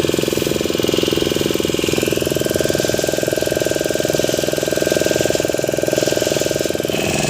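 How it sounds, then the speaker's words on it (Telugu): A loud, steady boat motor drones and chugs with a rapid, even pulse throughout, close and continuous with no voices, on a boat heading to an island near Vizag. "ఇక్కడ నాకు తెలిసి ఆ మోటార్ సౌండ్ గట్టి వస్తుంది"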